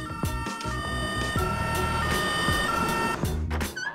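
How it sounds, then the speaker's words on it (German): A Playmobil toy-story ambulance siren wails loudly and steadily for about four seconds, with no voices over it. "Der Rettungswagen kommt gleich und deine Mama auch."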